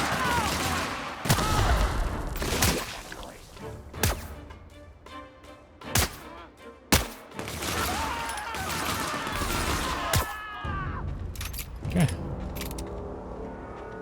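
Gunfire and explosions in a fight with marauders in the video game The Outer Worlds: sharp loud cracks and blasts arrive at irregular intervals over about fourteen seconds, with rumbling tails and busy combat noise between them.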